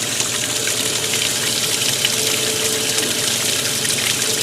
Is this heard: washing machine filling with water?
yes